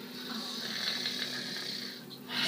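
A voice imitating a sleeping kobold snoring during a tabletop game session, one drawn-out, raspy snore that is fairly quiet and close.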